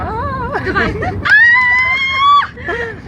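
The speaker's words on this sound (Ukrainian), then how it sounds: "Давайте всі покричимо." Several people scream and shriek together inside a moving car at night, a loud sustained high-pitched group yell rising over chatter and laughter, with excited talk before and after.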